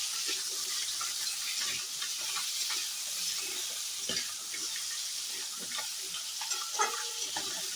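Continuous hissing sizzle of fish frying in oil, steady and close, with occasional clinks and pops of stirring; no talking.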